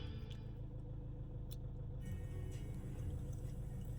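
A car engine idles after being started during a DEF dosing malfunction repair, a steady low rumble running continuously and fairly quietly at close range with no voices.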